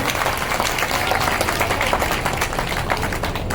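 A crowd applauds steadily and loudly throughout, with dense, even clapping at a statue unveiling ceremony for Shrimant Madhavrao Scindia at Morar District Hospital.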